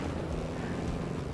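A helicopter in a video game gives off a steady, close rotor and engine rumble that fills the whole short stretch at an even level, with no pauses.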